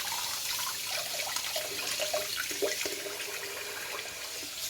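After a shave, tap water runs steadily into a sink for rinsing, a close, even rushing stream with small splashes breaking through it.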